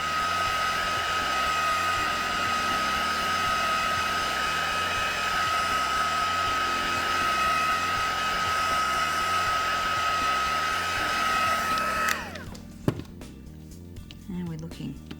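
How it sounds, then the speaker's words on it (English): A heat gun or hair dryer blows over alcohol inks on a plastic surface, a loud steady whooshing whine that runs continuously for about twelve seconds, then cuts off abruptly, leaving a few soft handling clicks. "So you can do this with a heat gun or a dryer."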